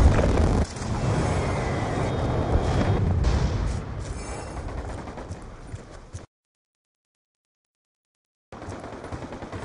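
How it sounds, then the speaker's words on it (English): Friendly Hellstorm missile strike in a console shooter game played on a homemade Xbox 360 controller, a loud sustained roar of explosions and rattling fire that cuts out abruptly into silence before resuming. "Friendly Hellstorm missile inbound"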